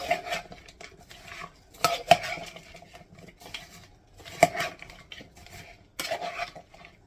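Big Mac skillet salad being mixed in a bowl: a spoon scrapes and clinks against the dish in irregular strokes with a few sharper knocks, close but fairly quiet, no voices.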